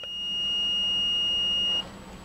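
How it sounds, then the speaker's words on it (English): A single steady electronic beep from an electrical tester checking a grounding connection, loud and close, holding for nearly two seconds before cutting off. "Then you touch the negative, you should hear a beep."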